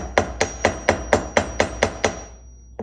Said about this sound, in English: so I hammer first time before I loop it, and then I will do it again.